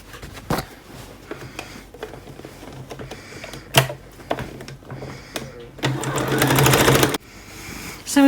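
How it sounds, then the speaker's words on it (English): Sewing machine stitching a seam along raw fabric edges in short runs, ending in a longer loud continuous burst of rapid needle chatter, with handling clicks between runs. "I'm going to run the foot along here to create a new seam"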